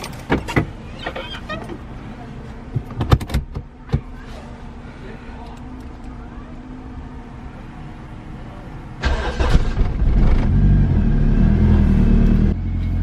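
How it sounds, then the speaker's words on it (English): Honda CRX with low compression in one cylinder cranks with a few sharp starter bursts, then catches and settles into a low rumbling idle that grows louder near the end. "I'm gonna try to turn it over and see if she fires"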